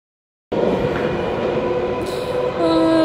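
A London train pulls out of the station, its steady rolling rumble and rattle beginning abruptly and staying loud and close, with a faint high squeal near the end; no one speaks.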